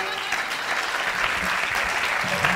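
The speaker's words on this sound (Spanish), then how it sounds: "Solo los que han aplaudido saben por qué han aplaudido." A theatre audience claps steadily throughout, a dense wash of applause at even volume with no voices standing out.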